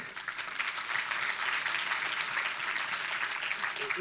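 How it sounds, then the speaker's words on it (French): Church audience applauding the announcement of a third church opening in Saint-Eustache, a steady, even roll of many hands clapping at moderate distance, with a faint voice near the end. "je sais qu'on applaudit régulièrement chaque fois qu'on en parle, qu'on l'annonce"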